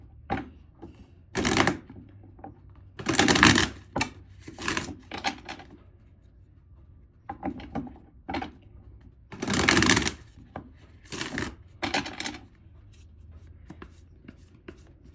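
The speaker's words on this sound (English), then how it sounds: "Now I'm going to pull some tarot cards on this so we can dive deeper into today's message." Tarot cards are shuffled and drawn by hand in bursts of brisk riffling and soft flicking, up close, with short pauses and light handling noises between the shuffles.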